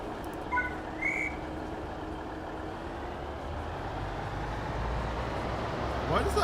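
A train whistle in a train simulator video game sounds as a couple of short, thin tones early on, fairly faint over a steady low engine rumble that continues throughout.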